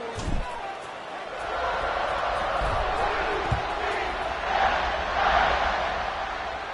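Stadium crowd in EA College Football 26 as a team lines up to kick off, a steady broad roar of fans swelling louder in waves, with a commentator's voice talking over it.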